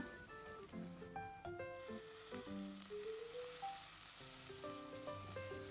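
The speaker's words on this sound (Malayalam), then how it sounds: "ഇനി ഇതിലേക്ക് കുറച്ച് കറിവേപ്പില ഇട്ട് കൊടുക്കണം" Curry leaves added to a frying pan of oil for a Kerala-style sardine curry, crackling and sizzling steadily and close up, with bright popping spatters over a hissing bed.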